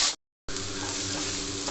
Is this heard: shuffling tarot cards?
no